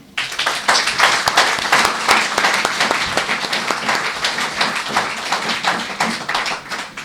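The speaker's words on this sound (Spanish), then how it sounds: "vamos a darle un fuerte aplauso" Loud applause from a lecture audience welcoming the speaker, dense rapid clapping sustained for about seven seconds with no talk over it.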